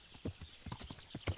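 Horse hooves clip-clopping in the medieval video game Kingdom Come Deliverance, a steady run of close, distinct hoofbeats with a faint snort or whinny, and no talk.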